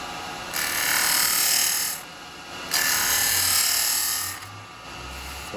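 A turning gouge cuts the rim of an elm bowl spinning on a lathe, giving loud, broadband hissing scrapes in two long passes broken by short pauses.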